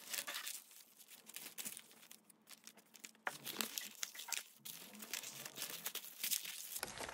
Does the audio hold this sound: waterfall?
no